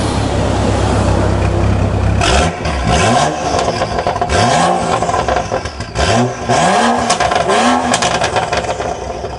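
A BMW 535i with an Active Autowerke tune idles roughly, then its exhaust barks through several sharp, loud revs that rise and fall in quick succession, close by with no speech.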